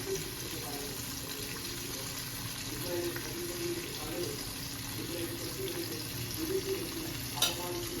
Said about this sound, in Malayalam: തീ ഒന്ന് ഇടത്തരം തീരോട്ട് വെക്കാം എന്നിട്ട് നമുക്കിതിങ്ങനെ ഫ്രൈ ആക്കിയിട്ട് എടുക്കാം